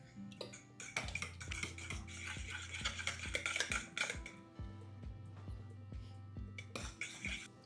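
A utensil stirs wet banana bread ingredients, including eggs, in a bowl, with quick rhythmic clinks and scrapes against the sides that keep up steadily with brief pauses.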